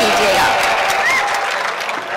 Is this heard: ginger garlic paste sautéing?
no